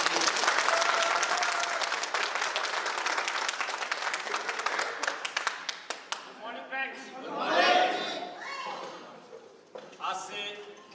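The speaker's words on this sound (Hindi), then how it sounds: "एक बार जोरदार ताली" A crowd at a business gathering bursts into loud applause, which thins into scattered claps and then gives way to a speaking voice and some murmuring.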